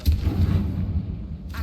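A Confringo blast spell from Hogwarts Legacy, heard as a loud, booming burst of low thumps and rumble that fades out, with a brief sharp crackle returning at the very end.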